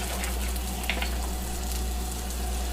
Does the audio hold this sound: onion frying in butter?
yes